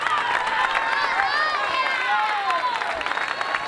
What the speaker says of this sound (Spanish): Dele aplauso, no sea tacaño.